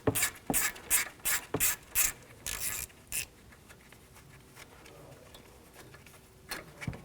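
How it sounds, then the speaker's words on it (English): A ratchet with a 10mm socket clicks in quick bursts while backing out the front brake hose bracket bolt on a 2007-2014 GMC Sierra 3500HD, close and sharp, then falls quiet with faint handling noise and a last click. "Now take this bolt out, use a 10mm socket"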